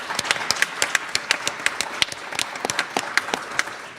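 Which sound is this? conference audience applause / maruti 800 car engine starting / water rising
conference audience applause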